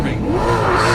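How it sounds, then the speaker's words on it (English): A 2007 Ford Mustang race car accelerating hard during an SCCA autocross event, its engine note rising steadily and loud throughout the short burst, with faint tire noise and a voice talking underneath. "In the 2007 Ford Mustang, taking a commanding lead."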